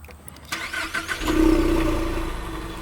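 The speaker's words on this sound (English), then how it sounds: "Alright, let's do a little revs." Engine of a 2018 Ford Mustang EcoBoost with muffler and resonator delete fires up, then swells into a loud, rising rev that holds and slowly eases off, close to the exhaust.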